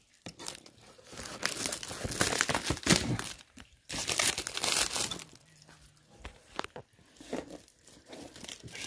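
Plastic foil wrapping being torn and pulled off by hand, a sustained run of crinkling, crackling and ripping bursts with brief pauses, close and fairly loud, with no talk.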